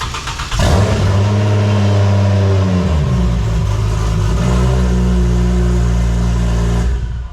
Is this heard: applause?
no